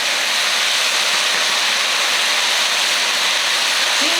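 Carrots stir-fry in oil over high heat, a loud continuous dense sizzle and hiss with no pauses.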